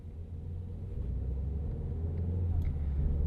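A 2013 Ford Fusion SE sedan with the 1.6L EcoBoost engine and six-speed transmission, at 83,000 miles, drives along with a steady low engine rumble and road noise that grows slightly louder, no voices present.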